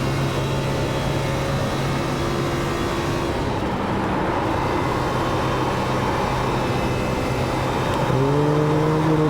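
Race car engine drones steadily in the iRacing sim at Kansas, a sustained mid-pitched hum with layered harmonics that shift slightly as the throttle changes, rising in pitch near the end.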